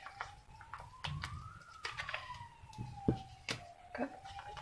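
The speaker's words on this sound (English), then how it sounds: "Got ambulance or police going out there at the moment too." A distant ambulance or police siren wails outside, its tone slowly rising and falling. It sits faint beneath close tapping and handling noises and a cooing dove.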